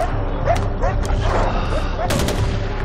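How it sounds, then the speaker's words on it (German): Dogs bark in short, sharp yelps amid a gunfight in the video game Far Cry 4, several quick barks mixed with gunfire and someone talking. "Wo kommen denn jetzt Hunde?"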